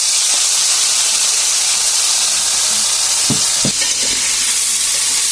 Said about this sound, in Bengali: আর তেলটা গরম হয়ে গিয়েছে। আর মা এখন মাছগুলো ছেড়ে দিচ্ছে।